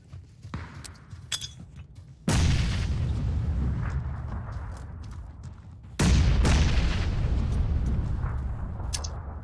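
Two heavy booms from grenades exploding in the video game PUBG, each erupting suddenly and loud with a long rumbling tail, the second a few seconds after the first, following a quieter stretch of small sounds.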